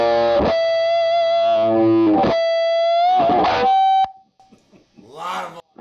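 Electric guitar through a drive pedal on its mid setting rings out sustained, loud overdriven notes and chords with pauses between, ending with a brief decay and a short voice.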